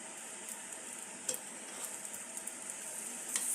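Eggs fry in a pan on a stovetop burner that has just been turned off, making a faint, steady, airy sizzle with a couple of soft clicks and no talking.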